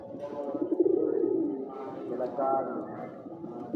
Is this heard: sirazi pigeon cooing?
yes